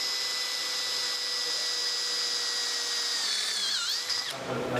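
Power drill tapping an M8 thread into 6mm steel plate, a steady high whine with sustained tonal ringing that dips and wavers near the end before cutting off abruptly.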